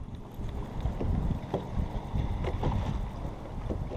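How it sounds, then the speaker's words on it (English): A boat's trolling motor hums low and steady on a lake, mixed with wind buffeting and light water sounds, with no other voices. "Decided to come out with the trolling motor"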